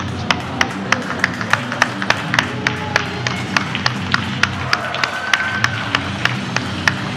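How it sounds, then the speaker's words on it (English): At a wrestling championship match, a crowd claps in steady unison, sharp rhythmic claps about twice a second over a loud, hollow arena murmur and scattered voices. "A round of applause led by Johnny Patches at ringside"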